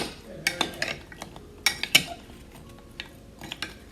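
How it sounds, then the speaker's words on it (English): A utensil stirs lye into coconut milk in a large Pyrex measuring cup, giving irregular clinks and taps of glass and metal over a soft background. "let's sprinkle on some more of the lye and stir that in"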